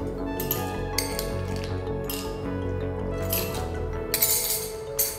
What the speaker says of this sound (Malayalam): ഇനി 2 സെർവിങ് ഗ്ലാസ് എടുത്ത് ഐസ് ക്യൂബ് ചേർക്കാം.